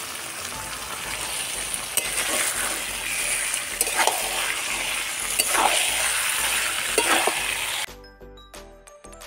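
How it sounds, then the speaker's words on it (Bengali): Chicken sizzles and is stirred in a pan of melted tomato, a steady frying hiss broken by scraping spatula strokes before it abruptly drops away near the end. "চিকেনটাকে আমি একটু কষিয়ে নিয়েছি ভালোভাবে"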